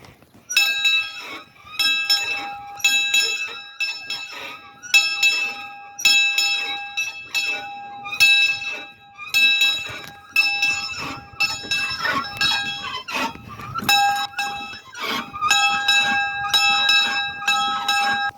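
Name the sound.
locomotive bell ringing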